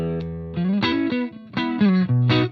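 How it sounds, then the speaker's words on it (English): Electric guitar through a KMA Audio Machines pedal with the input dialed back for a milder overdrive distortion, a few loud, sustained chords and sliding notes played alone. "The input is dialed back to give you a more overdrive distortion."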